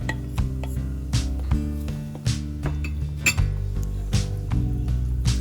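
Batter being mixed with two cups of flour and melted butter in a bowl for thin, crispy peanut pancakes, with steady rhythmic clinking and scraping of a utensil against the bowl, close and fairly loud throughout.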